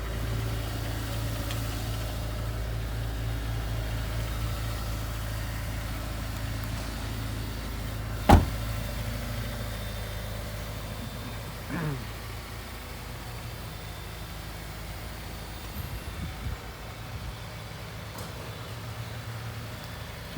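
A 2004 Honda S2000 with a little under 20,000 miles idles steadily, its engine a low, even drone held throughout with a single sharp click partway and a few faint knocks later.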